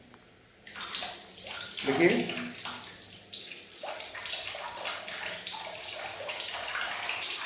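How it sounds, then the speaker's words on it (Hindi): Waste water from a home RO water purifier splashes and gurgles into a bathroom drain, a steady broadband wash that starts after a short spoken word and continues without a break. "ये वेस्टेज वाला पानी गिरना चालू हो गया है"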